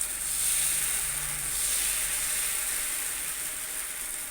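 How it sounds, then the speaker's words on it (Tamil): Wheat dosa batter hisses steadily on a hot pan, a continuous close sizzle without other sounds. "மறுபடியும் நம்ம இன்னொரு தோசையை ஊற்றிக்கலாம்"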